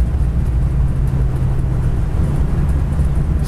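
A 1973 Dodge Charger with a 4-barrel carburetor drives down the road, its engine a steady, loud low rumble that holds an even level with no break.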